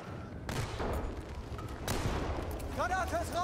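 A gun is hip-fired in the video game Battlefield 1, giving a few sharp, separate shots amid battlefield noise, followed by a brief high whistling tone near the end.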